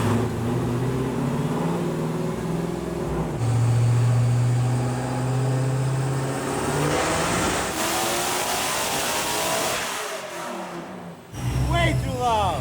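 A Dodge Demon with a manual transmission roars at high, sustained revs during a dyno pull for several seconds, rising and holding loud before cutting off abruptly; voices talk briefly near the end.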